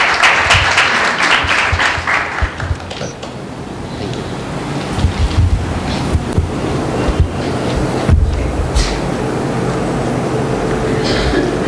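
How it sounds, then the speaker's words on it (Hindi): Church congregation applauding loudly at a Tuesday meeting, a dense wash of clapping that starts strong, then settles into steady sustained applause throughout with no voices over it. "एक जोरदार ताली प्रभु यीशु मसीह के नाम को देंगे"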